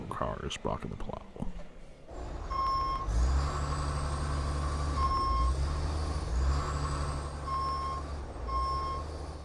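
A snow plow truck reverses with a steady, repeating backup beep over a loud, low diesel engine rumble, the beeps holding a regular rhythm near and clear.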